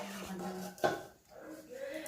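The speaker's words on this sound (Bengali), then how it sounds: "এবারে ভাত বাড়বো।" Rice is served onto plates in a home kitchen with a single sharp clink of a utensil against a dish, then soft scraping and quiet handling sounds.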